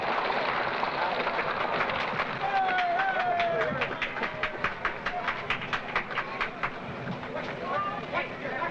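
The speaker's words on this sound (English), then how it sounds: "The train is moving now into place for loading" A Disneyland train rolls slowly into place for loading, wheels clicking in a steady clickety-clack rhythm over the rails alongside faint squeals, with a crowd murmuring nearby.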